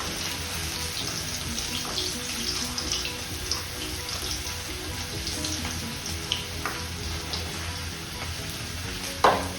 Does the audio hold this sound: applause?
no